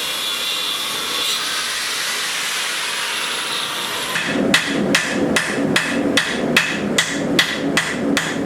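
Hand hammer forging a steel knife blade with an integral bolster, without a power hammer: after a stretch of roaring forge noise, about a dozen sharp, evenly spaced metallic blows ring out close by.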